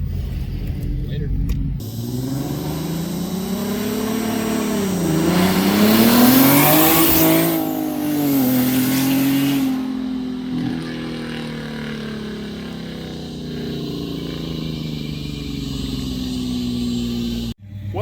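A loud turbocharged V6 engine in an S197 Mustang revs up and holds, pitch rising and falling, sustained and close, with a brief sharp burst at the end.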